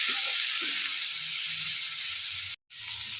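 Boiled figs (dumur) frying in hot oil for dumur bhaja give off a steady, close, loud sizzle and hiss. The sizzle cuts out for a split second, then resumes.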